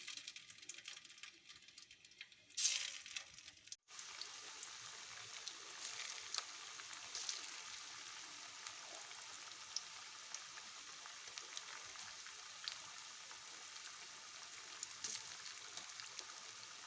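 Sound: cauliflower pieces frying in groundnut oil

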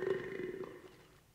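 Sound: crocodile burping in the film Hook

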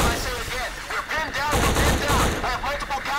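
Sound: gun firing in a video game

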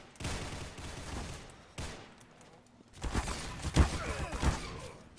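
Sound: sentry gun firing in a video game

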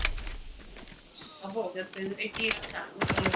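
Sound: gunfire in a video game

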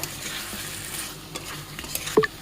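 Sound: stirring fried chicken with tomato in a pan

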